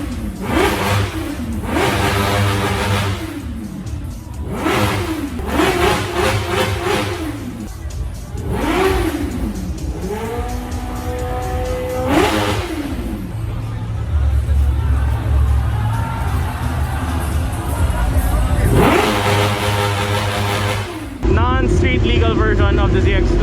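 Sport motorcycle engines at a racing bike festival, such as a Kawasaki ZX-25R and a Ducati V4 Superleggera with dry clutch, rev loudly and repeatedly in rising and falling bursts close by, over crowd chatter.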